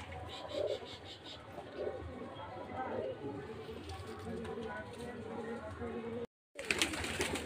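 Giribaz pigeons, pure desi birds kept in a loft, coo softly in a steady low murmur throughout, with someone talking over them and a brief dropout near the end.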